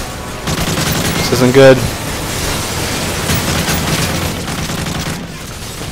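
Gunfire crackles in a Modern Warfare 3 battle, scattered bursts and a heavier boom rolling beneath tense spoken dialogue.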